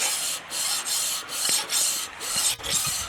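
A piston slides back and forth in a freshly honed cylinder of a Willys L-head engine being rebuilt, making close, rhythmic rasping strokes about six times in a row.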